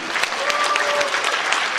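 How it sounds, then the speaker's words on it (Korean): A hall full of people at a conference of senior clergy claps steadily for a couple of seconds, a dense, even patter of hands without breaks. "한번 박수 한번 쳐주시기 바랍니다"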